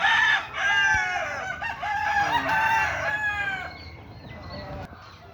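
Close, loud rooster crows overlap in rapid succession, followed by quieter clucking and softer calls as the crowing trails off.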